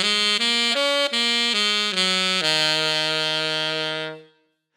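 Saxophone playing a minor pentatonic scale in a jazz context, a run of clean sustained notes stepping through the scale and ending on a long held tone that fades out, played alone with no talking.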